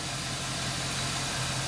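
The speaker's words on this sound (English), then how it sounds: "The engine is running." Chevrolet Express van engine idling, a steady low hum with broadband mechanical noise, continuous and even throughout.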